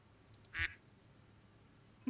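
A single short quack sounds close and clear against near silence, followed by a faint brief blip, with no talking.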